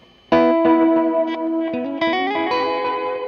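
Electric guitar notes ring out through a Phantom Sounds Analog Drift pedal with lush delay and reverb that duck while playing, the repeats and wash swelling between phrases, played alone and fairly loud.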